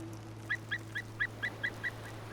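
Noisy crows gathered at a winter-killed deer in a snowy landscape, a series of seven evenly spaced harsh calls over a low steady hum, moderately distant.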